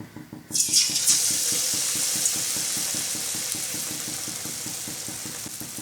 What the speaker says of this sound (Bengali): এই এবার এইভাবে ছেড়ে দিতে হবে তেলে।